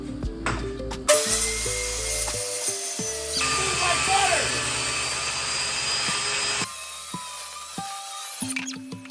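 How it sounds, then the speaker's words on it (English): Power saw cutting birch plywood boards for a work table, a loud steady whining cut running several seconds with motor hum before and after, alone without talk. "So let's get to sawing."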